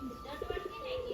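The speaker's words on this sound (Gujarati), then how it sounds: "જો આપણા બધા કબૂતર" Pigeons coo softly in a short series of low, rounded notes, heard faintly against a background hum.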